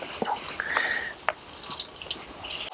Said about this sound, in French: je vais pouvoir bien essorer et on va retirer l'excédent d'eau